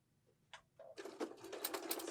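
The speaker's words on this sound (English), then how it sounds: "now we're sewing on the other side of the line" A sewing machine stitching a fish quilt block with a scant quarter-inch seam, starting after a couple of soft clicks and then running as a steady, close, rapid mechanical whir.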